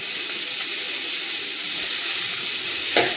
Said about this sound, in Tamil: தக்காளியை சேர்த்து நம்ம வதங்கி எடுத்துக்கலாம்.